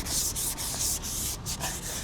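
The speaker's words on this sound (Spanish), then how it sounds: "lo que vamos a hacer es agarrar una lija y con la mano a darle en todas las áreas donde la máquina no llega" Sandpaper rubbed by hand over a boat hull, reaching spots a power sander misses: steady, close scraping strokes in a quick rhythm of short bursts, with no talking.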